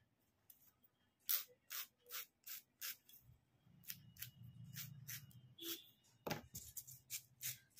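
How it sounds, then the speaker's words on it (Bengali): A banana file buffs a nail extension in quick rhythmic scratchy strokes, close and fairly soft, with a brief murmur of voice partway through. "ঠিক এভাবে নেলটাকে আমরা ধরবো, দিয়ে এইভাবে আমরা বাফ করব।"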